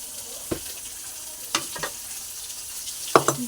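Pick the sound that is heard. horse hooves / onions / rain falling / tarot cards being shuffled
onions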